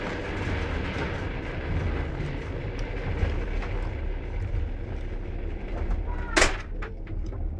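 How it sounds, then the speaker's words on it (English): Inside a moving passenger train carriage, a constant low rumble carries faint rhythmic clacks, and a sharp bang comes near the end. "I'm going to take you through the train where I stayed for 3 days."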